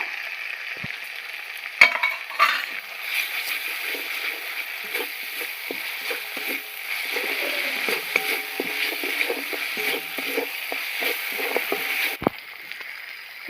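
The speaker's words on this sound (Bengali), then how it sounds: "সামান্য একটু লঙ্কার গুঁড়ো দিয়ে ভালো করে সব কষিয়ে নেব" Spices with a pinch of sugar and chili powder sauté in a pan for a vegetarian fig kofta curry: a steady sizzle under repeated scraping stirs of a spatula, ending with a single hard knock.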